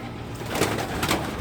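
Pigeons coo inside a coop housing copper and red birds, soft repeated calls rising above a low background hum, fairly close and steady with no talk.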